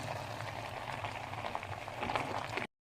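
Homemade hair growth oil boils in a pot on the stove, a faint, soft bubbling and gentle popping that lasts under three seconds before cutting off.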